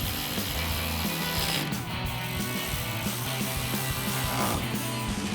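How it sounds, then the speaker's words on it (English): A ratchet fitted with a 10mm socket tightens headlight mounting bolts on a 2009-2018 RAM 1500, giving a steady, close, continuous run of rapid clicking pawl ratchets with no talk over it. "Grab your ratchet and 10mm socket and tighten those 2 down."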